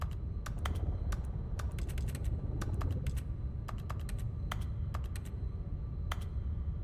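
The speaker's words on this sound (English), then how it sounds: "I just like clicking because it makes that little sound." Clicking in The Stanley Parable: Ultra Deluxe, heard as irregular, sharp, fairly faint clicks in quick bursts over a low steady hum, with no talking.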